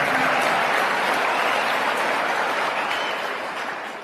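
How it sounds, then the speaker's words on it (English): Applause from a live audience fills the whole stretch, a dense steady clatter of clapping that stays loud and only eases off slightly toward the end, with no voices over it. "I'll take some applause on that."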